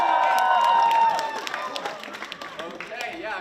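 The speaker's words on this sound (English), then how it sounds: "Everybody, 1, 2, 3, everyone cheer." A school assembly audience of year 11 students cheers together in a room, a loud, dense burst of voices and some clapping that fades into scattered, thinner shouts and noise.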